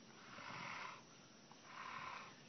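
A large snapping turtle breathes in two slow, faint, raspy hisses with a short pause between them, heard close up and alone.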